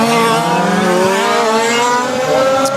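1/5 scale RC Mini Cooper race cars on a track straight during a French championship final, high-pitched small engines whining and rising in pitch as they speed past, loud and close.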